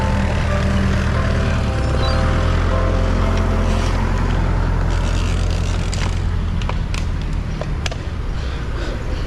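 Road traffic at a junction, heard from a bicycle: a loud steady engine rumble with cars passing close by, and sharp ticks and whooshes in the second half.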